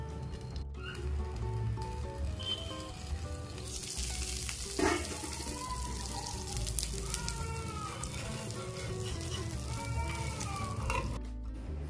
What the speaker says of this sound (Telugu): ఇప్పుడు దీన్ని ఒక 2 నిమిషాలు మూత పెట్టి కాల్చుకుందాం